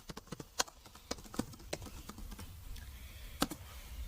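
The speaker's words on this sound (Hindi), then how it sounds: "सोप डिस्पेंसर लिख के मैंने इसको अगर सर्च किया" A computer keyboard being typed on to enter 'soap dispenser' into a website search bar: a quick, irregular run of close, crisp key clicks with a few louder taps, and no one talking.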